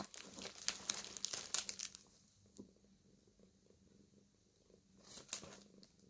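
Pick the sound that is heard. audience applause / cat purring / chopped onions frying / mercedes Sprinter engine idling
cat purring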